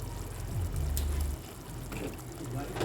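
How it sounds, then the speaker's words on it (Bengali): Water is poured into a pan of green egg curry, a steady close wash of liquid sound that thins out partway through. "একটু জল দিচ্ছি"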